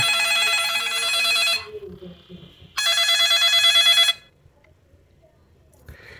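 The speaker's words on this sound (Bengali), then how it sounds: "ফোনটির প্রোফাইলে ঢুকলে কিন্তু রিংটোন অপশনটা আমরা এখানে পেয়ে যাব।" A ringtone from a button feature phone plays in two loud bursts of bright, repeating electronic tones, separated by a short quiet gap and followed by near silence.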